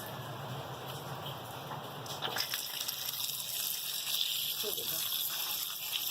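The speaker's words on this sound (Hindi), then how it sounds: "अब हम ठंडे पानी से धोएंगे।" Cold water gushes over mutton liver being rinsed in a home kitchen, a steady splashing rush that grows louder partway through and runs on without talk.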